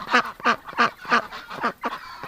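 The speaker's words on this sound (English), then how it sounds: "Okay, ducks, go back inside." Farm ducks on a winter morning give a loud, close run of about seven rhythmic, honking quacks in quick succession.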